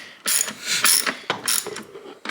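A ratchet on a long extension clicks in quick bursts while tightening 13mm brake nuts on an E30 BMW, the sharp close ratcheting separated by short pauses.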